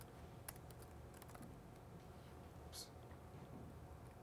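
Quick bursts of typing on a computer keyboard, light clattering keystrokes in short runs, heard close and fairly quiet over a steady room hum.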